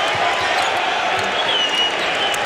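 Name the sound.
crowd buzzing at an NBA basketball game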